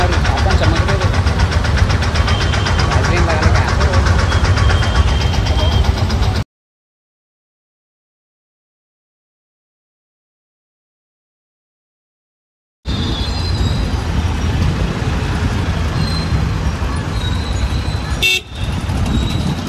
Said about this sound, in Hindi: देख रहे गाइस कैसी ट्रैफिक है